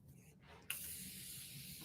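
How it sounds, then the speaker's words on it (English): A Morphe facial mist spray bottle lets out a sudden close hiss of fine spray that starts abruptly and then holds as a steady, soft, breathy wash to the end. "this is the never-ending Morphe face spray"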